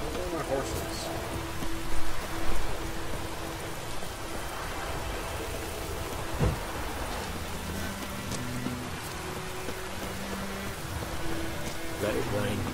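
Rain falls steadily in The Witcher video game, a continuous soft hiss of drops with a few faint thumps and tones underneath, fairly quiet throughout.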